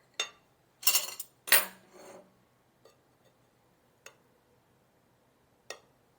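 A knife cuts into a gluten-free, sugar-free carrot cake topped with chocolate, giving a few close scraping slices with clinks against the plate, then scattered faint taps in quiet surroundings.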